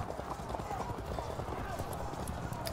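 Horse archers' hooves in the medieval strategy game Field of Glory 2, a steady dense clip-clop of many galloping horses filling the scene, with talk continuing over the top.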